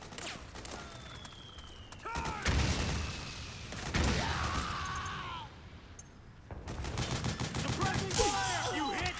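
Gunfire in the war game Metal Gear Solid 4, with bursts of rifle and machine-gun fusillades broken by brief pauses, loud and close, over shouting combat voices.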